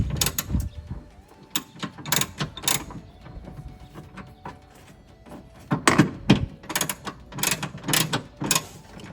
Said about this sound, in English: Now we're gonna tighten this bolt.